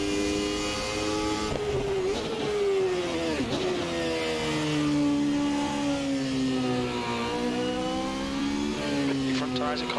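A 1991 Formula One car engine in Assetto Corsa holds a steady high-pitched whine, its pitch sliding up and down through gear shifts and throttle changes, loud and continuous for the whole stretch.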